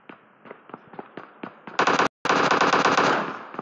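Gunfire in the mobile shooter game BGMI: a spaced run of single shots gives way to a loud, continuous automatic burst, broken once by a brief silent gap before the rapid fire resumes.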